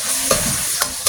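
Bihon noodles with carrots and vegetables being stir-fried in a pan with oyster sauce, giving a steady close sizzle broken by a few sharp scraping stirs.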